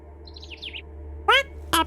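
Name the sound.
bird chirping in the video game OFF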